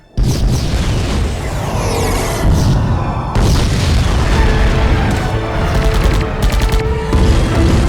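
A torpedo explosion in a 2007 sci-fi feature film: a sudden loud boom erupts and rolls on as a dense, sustained blast with repeated crackling bursts layered on top.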